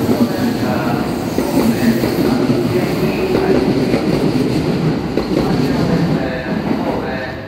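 An out-of-service train pulls away from Yamato-Saidaiji station, producing a loud, steady rumble of wheels and motors with faint squealing and clacking that fades slightly at the end, while a voice can be heard faintly in the background.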